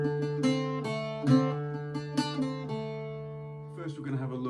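Irish bouzouki playing the opening phrase of The Foggy Dew, a slow melody of plucked notes ringing over sustained drone strings, close and clear with no talking.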